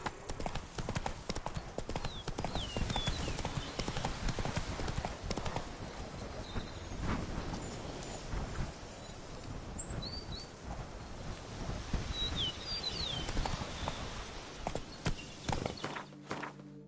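Roach the horse trotting in a video game, hooves clip-clopping in a steady continuous rhythm close by, with wind and faint bird chirps in the background.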